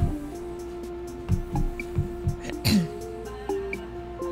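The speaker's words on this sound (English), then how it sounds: "Just clearing my throat." Someone clears their throat with short, low rumbling grunts, a few in a row, close by over a faint steady hum.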